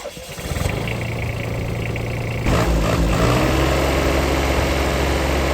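A Yanmar AF118 mini tractor's three-cylinder 1006 cc diesel engine cranks and catches, then settles into a loud, steady low idle close by.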